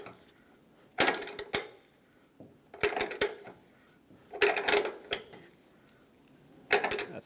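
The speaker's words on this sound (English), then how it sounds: "I'm going to do the wrench thing again" Ratcheting wrench tightening a tailgate damper sleeve on a 2009-2014 Ford F-150, heard as four separate bursts of quick metallic clicks with quiet pauses between them, close up and with no talking.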